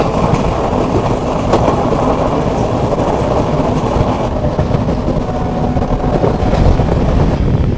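The Kottayam–Nilambur Express (22053) rushes past on the opposite line, heard from inside a moving passenger train. Its loud, continuous rumble and rattle fill the whole stretch without letup.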